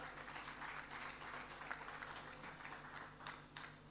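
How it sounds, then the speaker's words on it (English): An audience at a heritage talk clapping to welcome guests onto a stage, a faint, distant spread of applause over a low steady hum, with a few louder claps poking through. "Let's give them a round of applause."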